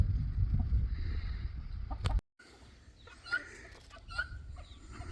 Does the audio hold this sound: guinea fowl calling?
yes